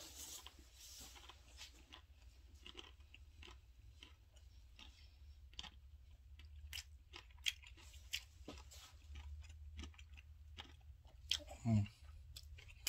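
Close, quiet chewing and crunching of a Korean rice-coated corn dog with ramen coating, scattered bites and clicks over a low background hum, with a louder crunch near the end.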